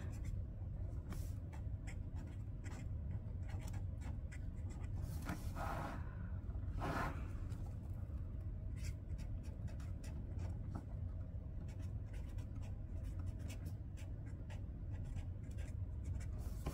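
A pen scratches faint, quick strokes across the pages of a paper daily planner, steady and close, over a low hum of passing traffic.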